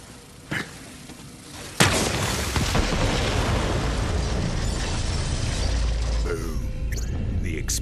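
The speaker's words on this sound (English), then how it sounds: "Explosion echoed through the forest" A loud explosion in Borderlands 3 bursts out in a forest and rumbles on as a sustained, crackling roar with debris, preceded by a brief thud.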